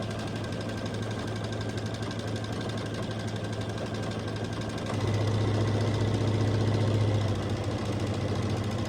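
Sewing machine stitching fabric binding down on a pumpkin door hanger, a steady close mechanical whir that gets louder and busier partway through as stitching speeds up, with no talking.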